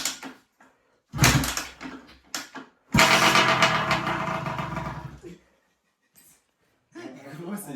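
A cheap secondhand Sherco 50cc motorcycle with a newly replaced stator starts up with a loud burst of two-stroke engine noise, then idles roughly for a couple of seconds before cutting out, with brief talk around it.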